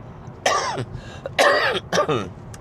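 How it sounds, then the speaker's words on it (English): Three rough coughs close by, the second one longest, separated by short quiet gaps, with no speech. "still coughing"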